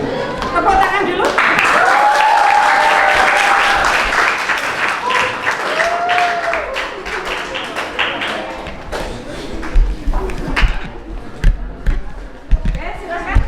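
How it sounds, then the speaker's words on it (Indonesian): A class of students applauds in a school classroom, loud dense clapping mixed with voices and excited chatter, thinning into scattered claps and thumps toward the end. "Ayo tepuk tangan dulu."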